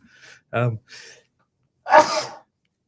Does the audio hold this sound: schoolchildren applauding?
no